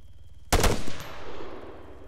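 A single loud burst of gunfire in the Arma 3 military shooter, a sharp close blast of a few rapid shots that rings out and decays into a fading rumble.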